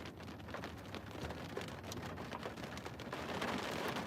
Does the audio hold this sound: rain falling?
yes